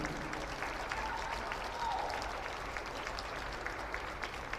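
An audience at a women's basketball game between MSU Billings and Central Washington applauds steadily for breast cancer survivors, a sustained, fairly faint patter of clapping that fills the gym without pause.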